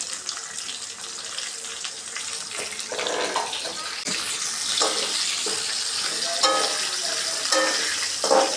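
Cumin seeds, a dried chilli and a bay leaf sizzling in hot oil in a home kitchen, a continuous crackling hiss with bursts of louder spitting and stirring clatter, moderately loud and without speech.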